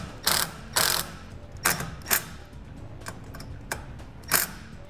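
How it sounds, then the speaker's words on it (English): Self-tapping screws are driven to mount a 6-pole round trailer wiring connector on a 2015 Jeep Wrangler, heard as close, separate ratcheting bursts of a hand tool spaced irregularly over a quiet background. "we'll secure it with a couple self-tapping screws"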